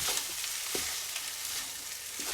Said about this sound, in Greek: Την ανακατεύω για αυτή με τα υπόλοιπα για 1 λεπτό.